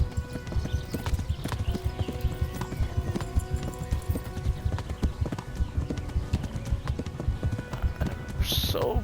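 A horse gallops in the medieval game Kingdom Come: Deliverance, its rapid hoofbeats loud and continuous with brief whinnies, while a voice talks over the action and a sharp noise flares near the end.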